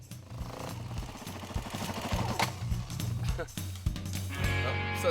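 A Mach scrambler motorcycle engine chugs unevenly with irregular popping and knocking, sputtering as it stalls, while someone talks over it.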